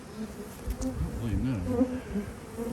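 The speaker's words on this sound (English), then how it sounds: "I see the bees fighting the wax moth." Honeybees at a hive in a cow pasture apiary, close and continuous, with wavering buzzing tones as the bees fight off wax moths.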